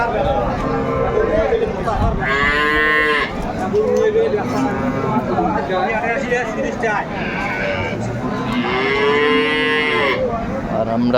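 A cow and calf at a cattle market moo in long, loud, close calls, several in a row, over a background of crowd chatter and voices.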